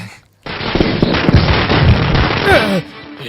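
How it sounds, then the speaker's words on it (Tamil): A dense, loud crackling barrage of popping bursts goes on without a break for a few seconds, like a string of firecrackers going off close by. "மனுஷனை நிம்மதியா தூங்க விடாம வெடிய போட்டது நீங்க"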